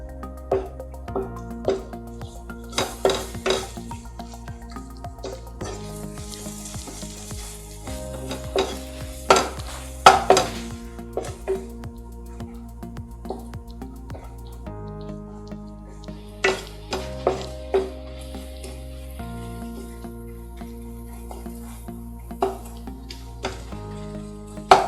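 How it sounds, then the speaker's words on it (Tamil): Chilli powder and spices sautéing in oil for prawn salna, with repeated loud scraping and stirring strokes of a spoon in the pan over a sizzling bed, rhythmic bursts across the whole stretch; no talk. "இது எல்லாத்தையும் நம்ம எண்ணெயிலே நல்லா வந்து வதக்கிக்கலாம்."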